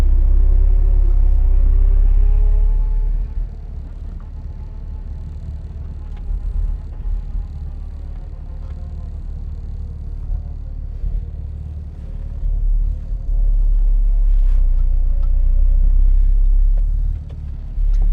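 An Acura RSX with an aftermarket exhaust on a test drive gives a loud, deep low-end rumble from inside the cabin, opening with a rising rev and swelling again as it accelerates and cruises.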